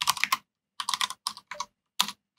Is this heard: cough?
no